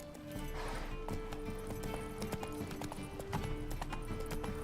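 Roach, a horse in The Witcher 3, gallops with a rapid rhythmic clip-clop of hooves under game ambience and music, fairly quiet and steady throughout.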